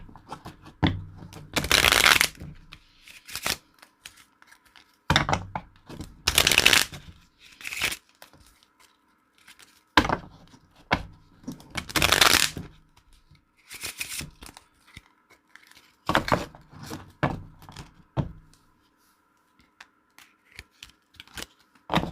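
Tarot cards shuffled by hand in repeated bursts, each a few seconds of dense riffling and flicking, separated by short quiet gaps, close and fairly loud with no talking.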